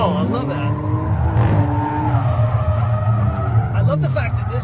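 A nearly stock Kia Stinger drifting at SEMA 2017, engine revving loudly with sustained skidding tire squeal throughout, overlapped by people talking excitedly nearby.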